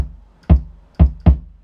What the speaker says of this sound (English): 808 type kick, and I've mixed it with another kick so it sounds like this